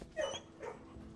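A puppy in the video game Blue Prince gives a couple of short high yips close by, with a brief pause between them.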